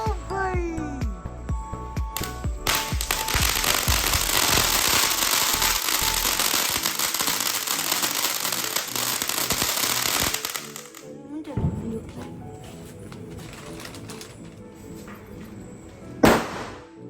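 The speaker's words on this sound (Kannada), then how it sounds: "ಅವನೇನೋ ಪಟಾಕಿ ಎಲ್ಲ ಬಿಡಬೇಕು ಅಂತ ಫುಲ್ ಪಟಾಕಿ ಎಲ್ಲ ತಗೊಬಂದಿದ್ದಾನೆ" Firecrackers set off at night near a home burst in a rapid, sustained crackling barrage for several seconds, loud and close, then taper to scattered pops and a final sharp bang.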